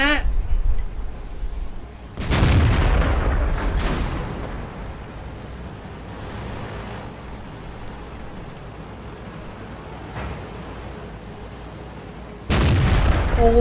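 Tank cannon shots in World of Tanks during a tournament match, three heavy booming blasts with rumbling decay, the last cut off at the end, between stretches of low engine noise.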